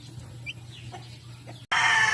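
Chickens on a small backyard chicken farm cluck softly and intermittently at moderate distance, then a sudden louder burst of close, busy fowl noise fills the final half second.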